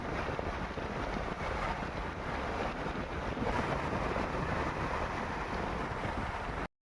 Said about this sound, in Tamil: உங்களுக்கு கண்டிப்பாக ஃபேன் சுற்றுற சத்தம் கேட்கும்னு நினைக்கிறேன்